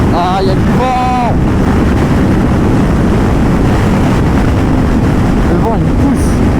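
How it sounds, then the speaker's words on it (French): Strong wind buffets the microphone in a loud, constant roar, with a few faint whistling tones drifting above it. "Ah, il y a du vent!"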